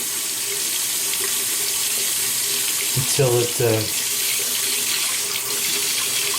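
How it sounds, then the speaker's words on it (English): A steady hiss of tap water runs into a sink throughout, with a couple of brief clattering knocks partway through. "just let the water run a little bit"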